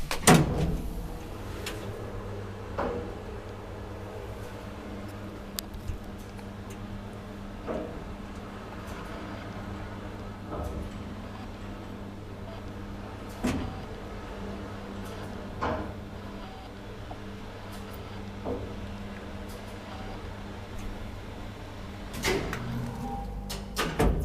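An old Kone traction elevator in an Espoo apartment building runs with a steady low mechanical hum, broken by scattered clunks and sharp clicks and a louder door bang near the end.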